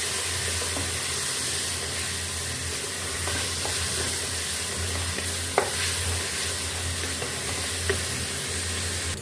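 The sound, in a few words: stirring tomatoes into frying masala in a pan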